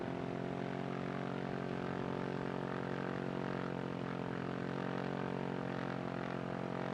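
A light aircraft engine holds a loud, steady propeller drone during a pre-takeoff run-up, with constant even tones and no pauses, heard from inside the cockpit.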